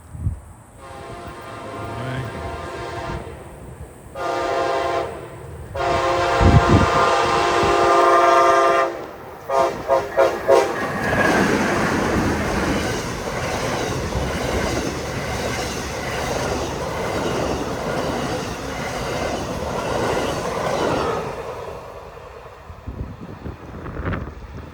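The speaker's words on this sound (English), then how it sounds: "Amtrak Floridian, southbound in Palm Beach County" Amtrak Floridian passenger train led by an ALC Charger locomotive passes southbound in Palm Beach County, Florida, sounding several loud horn blasts, then a long rumbling roar and clatter of cars rolling by close up, fading at the end.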